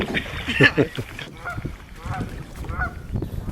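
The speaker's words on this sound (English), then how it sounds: "We herded geese downriver every day" Several geese honk loudly nearby in short bursts while being herded downriver on Montana's Tongue River, with more calls trailing off amid background noise.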